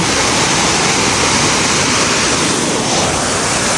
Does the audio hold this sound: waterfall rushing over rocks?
yes